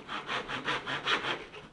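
Handsaw cutting a wooden edging strip fixed with brads to sheet goods, making about eight quick, even rasping strokes close up. The sound stands alone with no talk.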